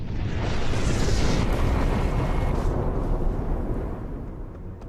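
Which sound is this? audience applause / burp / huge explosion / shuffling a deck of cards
huge explosion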